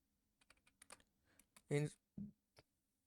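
Computer keyboard typing while writing an SQL insert query during a live class: short bursts of light clicking keystrokes, close and quiet, with a brief spoken phrase partway through.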